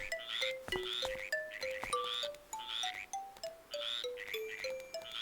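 Remixed background music from the Link's Awakening remake video game, playing at Richard's Villa: a steady, bright melodic line of stepping tones with chirpy high accents, continuous and fairly quiet, no talking over it.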